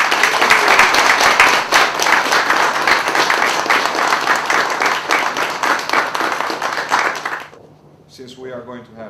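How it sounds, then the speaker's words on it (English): A ceremonial audience in London applauds steadily for the Mayor of Tirana receiving the Freedom of the City, clapping that stops abruptly, followed by a voice speaking. "Some applause."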